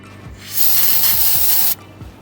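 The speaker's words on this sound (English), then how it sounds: "just get the sensor cleaner and just spray it" Aerosol sensor cleaner sprayed onto an air temperature sensor on a Charger ScatPack, a single steady close hiss lasting about a second, with a few low thumps before and after.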